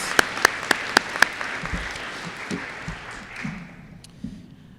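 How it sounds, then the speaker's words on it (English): Applause from an audience at an eighth grade promotion ceremony, starting loud with a few sharp claps and gradually thinning and fading out. "One more round of applause for both recipients."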